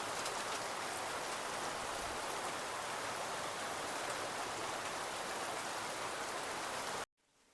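Heavy rain pouring at night in Hyderabad, Telangana, a dense close roar of drops on surfaces that runs unbroken and loud, then cuts off abruptly near the end.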